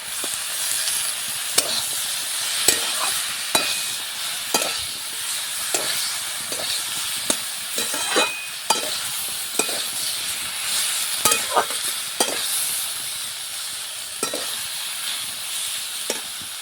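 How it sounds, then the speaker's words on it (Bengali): Potatoes and Malabar spinach are stirred with a spatula in a frying pan, a soft continuous sizzle punctuated by frequent sharp scrapes and clinks at an irregular rhythm, close and without talking. "ভালো করে নেড়ে চেড়ে নিচ্ছি। আলুগুলো ছোটো ছোটো করে নেবো, পরে খুন্তি দিয়ে এইরকম করে।"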